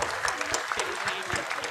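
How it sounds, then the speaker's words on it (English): Audience applause fills an auditorium at a convocation ceremony, steady crowd clapping with scattered sharp claps, moderately distant and continuous throughout. "have a round of applause as ma'am exits the auditorium"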